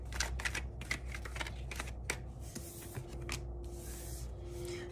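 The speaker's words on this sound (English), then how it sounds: "I'm going to give it a couple more shuffles" Tarot cards are shuffled by hand in quick, soft riffling bursts with crisp flicks, quiet and close, with no talking during the shuffle.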